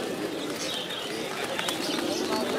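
Pigeons cooing continuously at a busy pigeon market in Mirpur 1, Bangladesh, with soft chirps and wing flutters over a dense crowd murmur.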